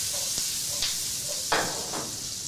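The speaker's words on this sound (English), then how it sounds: "we're gonna saute these onions just a little bit" Onions sauté in a pan for a venison tagine, giving a soft, steady sizzle broken by a few sharp stirring scrapes, close and fairly quiet with no talk.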